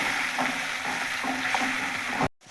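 Tomatoes sauté in hot oil with garlic, green chilies and ginger in a pan, a steady close sizzle with soft stirring scrapes throughout before it cuts off abruptly near the end.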